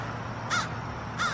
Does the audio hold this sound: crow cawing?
yes